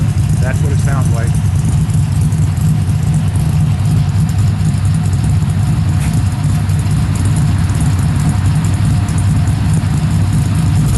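A Mazda RX-7 rotary engine idles steadily in a shop, a continuous low rumble that holds an even pitch throughout with no revving, with a brief higher chirp early on.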